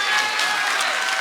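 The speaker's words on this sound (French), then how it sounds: "une main d'applaudissement pour Ghislain Gagnon" Gala audience applauding Ghislain Gagnon at an inclusion gala, a dense, steady wash of many hands clapping throughout.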